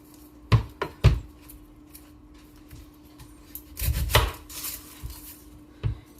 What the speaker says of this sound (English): I need to get the onions chopped up